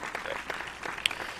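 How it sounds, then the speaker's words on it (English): Brief, soft audience applause from a small crowd, light scattered clapping heard at a distance with a faint voice underneath. "There's the applause for him."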